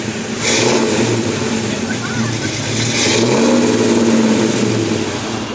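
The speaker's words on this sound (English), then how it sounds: "that Viper is leaving right before I got over there" A Dodge Viper pulls away at a Portland cars and coffee meet, its engine rumbling and revving steadily as it leaves, under constant crowd chatter and nearby voices.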